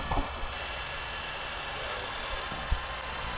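A Blade 230 S V2 RC helicopter flies outdoors, its rotor whine holding a steady high buzz throughout, with a couple of brief thumps of wind.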